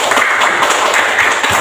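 A classroom of students clapping together during a school lesson, a brief, fairly loud burst of hand claps lasting under two seconds.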